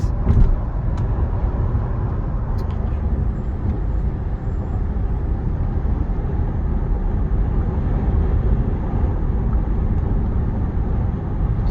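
A 2006 BMW 525 sedan drives along smoothly, its steady engine and road rumble heard from inside the cabin, constant and fairly loud with no talking.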